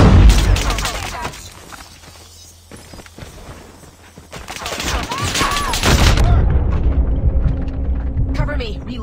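Gunfire and explosions from a Call of Duty multiplayer hardpoint match, with rapid bursts of shots, a heavy grenade blast partway through, continuous loud combat, and game voice callouts over the action.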